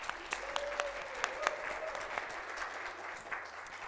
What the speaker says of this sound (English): I think we should applaud now, right?